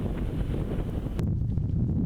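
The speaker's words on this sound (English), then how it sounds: "The wind was giving the cyclists plenty to think about, with gusts well over 30 miles per hour" Strong gusty wind, over 30 mph, buffets the microphone in a continuous low rumble, with a brief rustling gust partway through, at a triathlon near Greenpoint Stadium, Cape Town.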